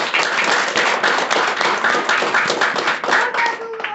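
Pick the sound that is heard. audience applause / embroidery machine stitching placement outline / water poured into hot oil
audience applause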